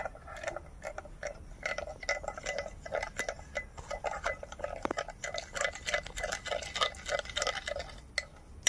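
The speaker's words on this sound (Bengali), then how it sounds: "কফির সঙ্গে চিনিটা বেশ ভালো করে মিশিয়ে নেব।" A spoon clinks repeatedly against a cup while stirring coffee and sugar with a spoonful of hot water, a quick irregular run of light metallic taps close by with no talk.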